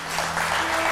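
A studio audience on a Turkish daytime talk show applauds an 80-year-old guest as he arrives, producing a brief, dense, loud wash of clapping that holds steady throughout.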